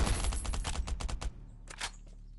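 Rapid gunfire in the survival video game Last Island of Survival: a close, fast burst of about a dozen shots, then a brief pause and a few more scattered shots.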